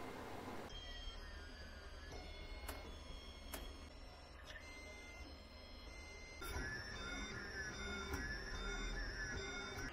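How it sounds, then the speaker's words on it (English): A 3D printer running through a roughly 22-minute print job, giving a steady mechanical hum with whining stepper-motor tones that rise and fall, plus occasional sharp clicks, continuous throughout and close by. "then I'll start going through the printing process on the printer."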